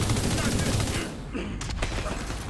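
Rapid gunfire rattles through a combat firefight in The Division 2 video game, dense and loud at first, then thinning into scattered shots.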